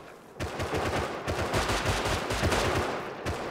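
Rapid automatic gunfire in a shooter video game, a dense stream of close, loud shots rattling almost continuously for about three seconds with brief gaps.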